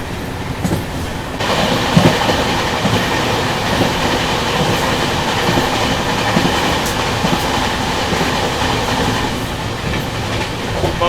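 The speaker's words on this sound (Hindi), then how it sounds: "अभी अपनी ट्रेन निकल रही है चटियाला रेलवे स्टेशन से" Passenger train pulling out of Chatiyala railway station, a continuous loud rumble with rhythmic clickety-clack of wheels over rail joints, close and sustained, no talking.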